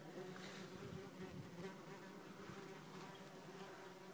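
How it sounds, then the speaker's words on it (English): Angry wasps from a nest inside a garden shed, just treated with insecticide, give a dense, steady, close buzzing drone throughout with no pauses. "The wasp has appeared from a different panel."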